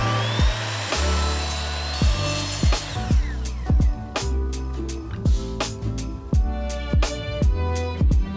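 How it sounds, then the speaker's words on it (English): A miter saw cuts wood in a string of sharp, repeated bursts, each a quick whine that spins up and drops away, with short pauses between the close, loud cuts. "all I'm going to use is my miter saw to make all my straight cuts and all my angle cuts"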